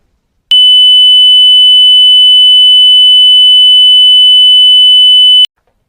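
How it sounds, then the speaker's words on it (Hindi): A steady pure 3000 Hz test tone, loud and unwavering, holding for about five seconds before cutting off abruptly, with silence on either side. "मैं यहाँ पे एक 3000 हर्ट्ज की फ्रीक्वेंसी आपको सुनाता हूँ"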